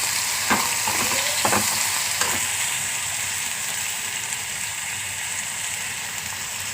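Tomatoes frying in oil with browned garlic for a tomato gongura curry, giving a steady close sizzle, with a few sharp scraping stirs of a spoon in the first two seconds before the frying continues alone.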